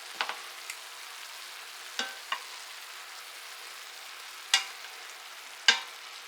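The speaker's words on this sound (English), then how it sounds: "I'm going to stir it around a little bit" Cabbage frying in a pan with a low steady sizzle, broken by a handful of sharp clinks and scrapes as it is stirred, the utensil knocking the pan several times at uneven intervals.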